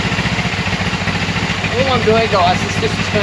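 A 1989 Suzuki GS500 motorcycle engine idling at around 2,000 rpm with the choke on, a steady close, low pulsing throb heard beneath a voice.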